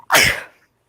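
A single sharp sneeze bursts out close by with a quick intake before it and a short trailing fade, with no talking around it.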